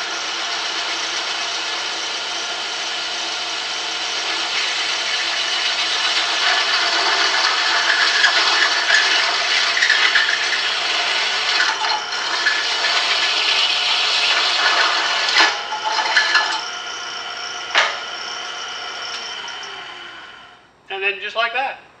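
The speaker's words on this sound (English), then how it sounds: "the drill just acts like a guide to help keep the hole saw centered." A steady, loud mechanical whir of a drill-driven hole saw cutting through aluminum, running continuously with a few sharp clicks near the end before it stops.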